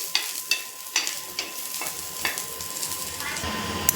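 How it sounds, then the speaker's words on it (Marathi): Ginger and garlic fry in hot oil for matki bhaji, a steady crackling sizzle broken by sharp periodic clicks of a spatula stirring against the pan, close and moderately loud with no voices. "हे बघा अद्रक आणि लसूण हे पण भाजून घेते आता"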